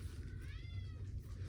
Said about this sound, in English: Excuse the background noise, the cat's one in the bedroom.